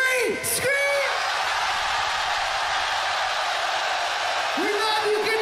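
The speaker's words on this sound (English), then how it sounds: "Scream so loud that the rest of the world can hear you." A large concert crowd at an electronic music festival in Japan screams and roars in a loud, sustained wash of noise. A brief shouted voice comes through near the start and again near the end.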